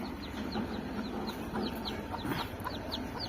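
Chickens cluck repeatedly in a steady, close chorus of short calls over a continuous rural outdoor background, with no talking.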